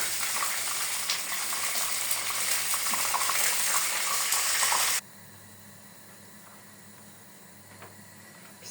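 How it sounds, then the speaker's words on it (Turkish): Cheese-filled pişi dough frying in hot oil, a dense steady sizzle that drops sharply to a much quieter, softer crackle partway through. "güzel peynirlerim de arkadaşlar nar gibi kızarıyorlar."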